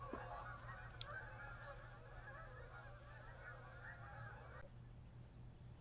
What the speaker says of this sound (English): flying ducks. Those are geese, but flying ducks.